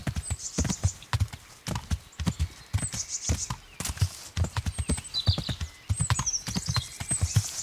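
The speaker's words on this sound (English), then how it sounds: "Climb this hill, you horse." In Kingdom Come: Deliverance, a horse's hooves clop uphill in a steady, close walking rhythm, with faint tack jingles and a snort over ambient outdoor sound.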